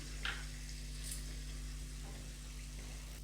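Coarsely pounded cumin and black pepper sizzle in a hot pan while khara pongal is being cooked, a soft, steady frying hiss with a couple of brief brighter crackles, heard alone over a low hum.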